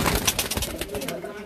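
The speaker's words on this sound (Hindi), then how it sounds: "ये सब जोड़ने वाले कबूतर हैं इजाज साहब के" Pigeons cooing in a bird loft, close and fairly loud: a quick cluster of soft, throaty coos and rustling, with no speech.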